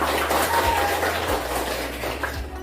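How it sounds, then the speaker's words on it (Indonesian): Students applaud together in a classroom after a lesson on food chains, a dense, steady patter of many hands that keeps up without a break across the whole stretch. "Tepuk tangan buat semuanya."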